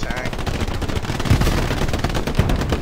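Rapid machine gun fire crackles in a WW2 video game firefight, a dense continuous stream of shots with a couple of heavier bursts, loud and close, while players chatter over it.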